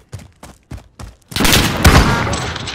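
Rifle fire in Call of Duty: Modern Warfare, five separate close shots in an even rhythm, then a dense, loud burst of overlapping gunfire and impacts.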